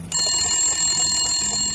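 Telephone bell ringing in an office at lunchtime, a loud, bright, sustained metallic ring that starts abruptly and continues without pause.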